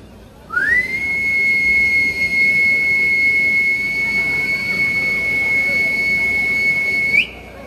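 A person imitates a mother's calling whistle: a single loud, sustained whistle rises sharply and holds one steady high pitch for several seconds before cutting off.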